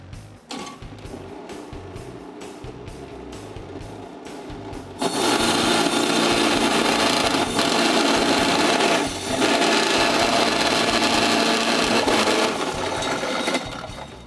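A kitchen machine grinds frozen streusel dough, starting with a series of sharp clicks and knocks, then bursting into a loud, steady, gritty whir that holds for several seconds with brief dips before cutting off.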